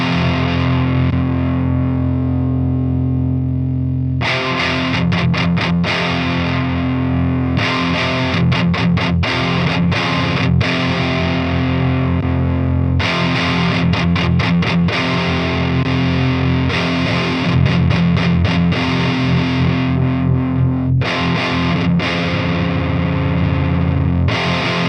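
Heavily distorted metal guitar played through a KSR Artemis amplifier, loud and dense, with chugging riffs broken by choppy staccato stops and sustained chords throughout, no talking.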